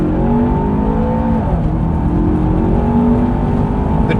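A 635 hp Land Rover Defender Octa runs at full power on the Bonneville salt flats. Its engine roars loudly and steadily from inside the cabin, with a brief dip and shift partway through before the drone holds on.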